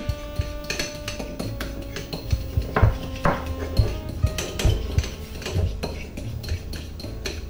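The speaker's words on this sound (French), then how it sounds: "on va mélanger la mayonnaise avec la moutarde" Mayonnaise and mustard being whisked together for a sauce, rapid repeated metal utensil clinks and taps against a bowl, close and steady throughout.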